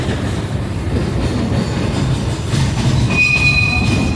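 Outlaw Run roller coaster at a Branson theme park roars past overhead, a steady rumbling rush of wheels on track with a high metallic squeal rising near the end, loud and close with no talking.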